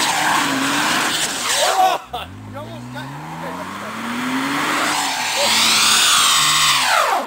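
A rear-wheel-drive BMW struggles in snow during a blizzard, its engine revving and rising in pitch while the tires spin and squeal, loud and close, with a high whine climbing toward the end.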